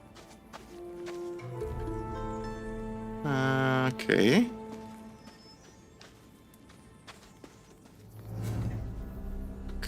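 Horses in the video game Gothic Remake, with a short burst of hoof clatter and a brief whinny-like rise in the middle, and a voice speaking briefly over the background.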